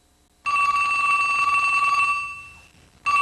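A telephone rings during a telethon broadcast, one long loud electronic ring lasting about two seconds that fades out, then a fresh ring begins after a short pause.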